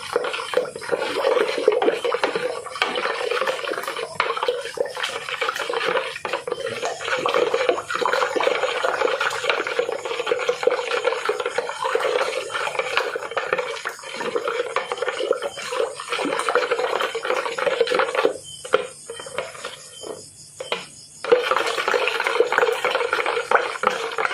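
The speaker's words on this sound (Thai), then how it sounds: "ตอนนี้เขาก็เคี่ยวน้ำตาลนะทุกคนเคี่ยวน้ำตาลใส่อันนี้ก่อน" A spoon steadily scrapes and stirs sugar simmering in a pot for homemade melon syrup, a continuous close-up rubbing, bubbling texture with brief pauses near the end.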